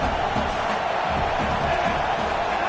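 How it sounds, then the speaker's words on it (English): A stadium crowd in a college football video game roars continuously at a loud, even level, a dense wash of cheering without breaks. "This crowd knows when to bring it."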